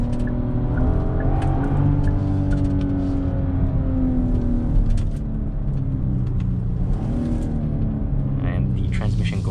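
A 2022 Genesis GV70 SUV accelerating on the road as its transmission shifts, engine hum rising and falling in steady steps, heard from inside the cabin while someone talks over it.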